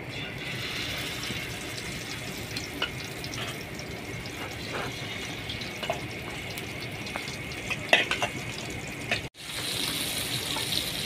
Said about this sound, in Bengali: তেল গরম হয়ে গেছে, এখন মাছ দিয়ে দিব।